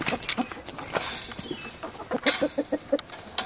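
A farm rooster clucks in a series of short, clear calls that grow denser toward the end, close by, with other fowl and faint farmyard noise around it.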